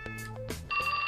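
Cell phone ringing in the 428 video game, a short electronic ringtone with layered tones that switches to a brighter sustained trill near the end, clear and close with no talk.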